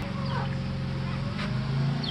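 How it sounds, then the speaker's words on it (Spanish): Small chicks peeping beside a hen in a rural yard, faint high chirps over a low steady background hum, brief and close. "Mira, Jimena tiene sus pollitos."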